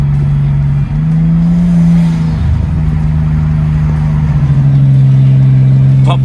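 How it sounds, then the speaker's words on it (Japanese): A turbocharged Nissan Skyline R33 fitted with an aftermarket muffler and air intake: a loud, close engine drone that dips briefly, then holds a strong, steady rev with slight pulsing. "ターボの音は最高。"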